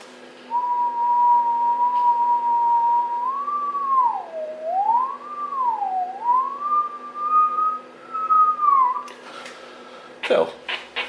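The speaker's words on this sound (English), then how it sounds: "also whistle into it to get a nice sine wave" A person whistles a long sustained tone with slow wavering bends into a Marconi Instruments 2955 radio communications test set, clear and close over a faint steady hum, ending with a few clicks and handling knocks.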